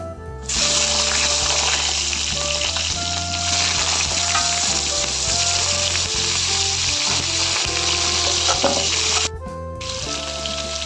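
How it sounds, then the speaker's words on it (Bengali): Salted eggplant pieces hit hot oil in a pan, bursting into loud, steady, close sizzling that continues throughout and drops briefly near the end before carrying on. "আমি বেগুনগুলো এরকম করে এই সাইজে কেটে নিয়েছি এখন এগুলোকে নুনগুলো দিয়ে ভেজে নেব"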